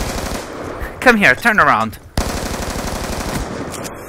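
Rapid automatic gunfire in Black Ops 2, a loud rattling burst of closely spaced shots that stops briefly while someone shouts a few words, then rattles on steadily to the end.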